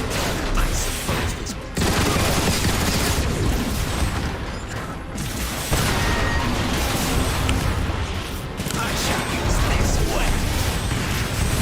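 Chain gun in the video game Transformers: War for Cybertron, firing long, dense, loud bursts with only brief pauses between them, alongside crashing battle effects.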